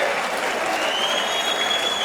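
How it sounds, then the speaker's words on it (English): Crowd applause at a SuperFight 10 combat event honours the fighters: a dense, steady wash of clapping from a large audience that holds at an even level throughout. "you can give that fighters a round of applause, please"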